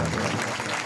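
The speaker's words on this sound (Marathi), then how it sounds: "एकदा या सर्व मंडळींकरता जोरात आपण टाळी वाजवायची" Audience at a kirtan in Bodwad clapping together, a dense steady patter of applause filling the space with some voices mixed in.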